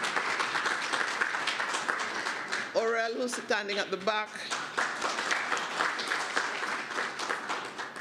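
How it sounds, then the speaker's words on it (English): Audience clapping for the organisers at a health ministry research day, a steady patter of applause running throughout while a speaker talks over it. "Can I give her a round of applause, please?"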